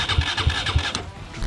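A quad bike engine cranks over in three quick even pulses and then catches with a rougher mechanical rattle, heard close and fairly loud with no talking.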